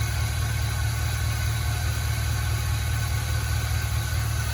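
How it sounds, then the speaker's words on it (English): A 2001 Chevy Silverado 2500HD 4x4 work truck idles nearby, a steady low rumbling engine pulse with even rhythm and exhaust burble, no talking over it. "exhaust, idle and everything sounds really super decent"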